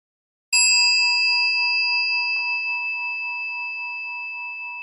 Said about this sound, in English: I'm going to ring one bell to call us into our meditation itself